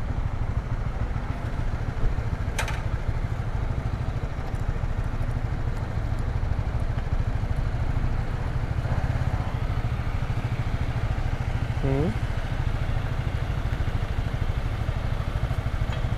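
A Honda CBR motorcycle engine idles steadily on a Singapore street, a low continuous rumble that stays even throughout, with a brief higher whine passing near the end.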